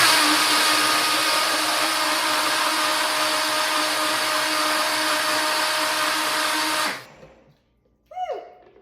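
Blender whirring steadily at high speed while olive oil is emulsified into gazpacho, a loud continuous motor drone that cuts off abruptly, followed by a few faint clinks.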